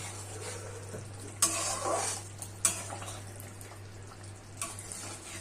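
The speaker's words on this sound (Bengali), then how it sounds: "দেখুন ঝোলটা আমার ফুটে গেছে। একটু এবার নাড়াচাড়া করে দেব।" Boiling gravy of steamed pointed gourd in mustard-poppy paste gets stirred in a pan, a soft bubbling bed broken by a few sharp scraping clinks of a spoon against the pot, close and alone.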